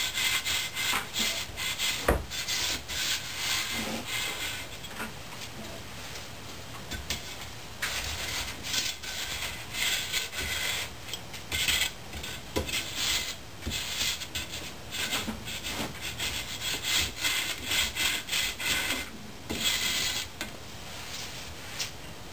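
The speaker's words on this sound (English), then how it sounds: "The next step is to strike it off level and flip the mold." Rammed foundry sand being struck off level on the cope of a bell mold, repeated scraping and rasping strokes with short pauses between passes, close and moderately faint.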